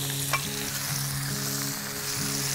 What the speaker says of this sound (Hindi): अब हमारा ये जो हो गया है फ्राइंग पैन, इसमें हम ये है थोड़ा सा बटर और डालेंगे